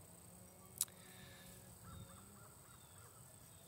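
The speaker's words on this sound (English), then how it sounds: "there's some more crows" Crows caw faintly in the distance, a short run of four or five evenly spaced calls over steady outdoor background hiss, with a single brief clink near the start.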